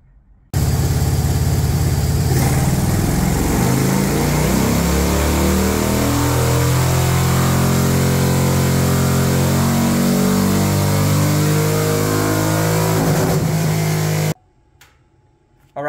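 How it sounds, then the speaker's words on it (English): A Harley-Davidson 103ci motorcycle engine with SE585 cams revs hard on a dyno, a loud continuous roar rising and falling steadily for about fourteen seconds before cutting off abruptly. "we just finished doing the dyno tuning on Peacock's motorcycle"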